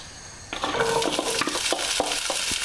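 Onions sweating in four tablespoons of olive oil in a large frying pan over low to medium heat, a steady close sizzle starting abruptly and continuing with small crackles and stirring clinks.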